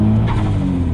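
A VW Bora V6 Turbo GT35 accelerates, a loud, close, brief engine note rising in pitch over a low road rumble.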